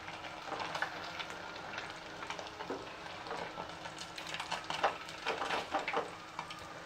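Pomfret fish deep frying in plenty of oil, a steady close sizzle with louder crackling bursts and occasional clinks of a utensil against the pan.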